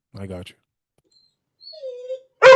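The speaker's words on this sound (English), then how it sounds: "I still hear your dog." A dog whimpers indoors with a short, thin whine that slides downward, heard alone between bursts of people talking nearby.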